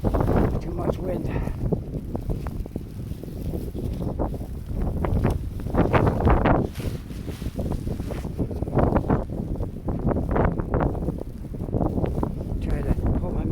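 Strong gusts of a nor'easter snowstorm in Halifax buffet the microphone with loud, rough, surging rumbles that rise and fall throughout, while a person talks over them.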